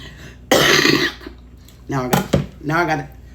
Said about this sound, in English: I just coughed all over the onions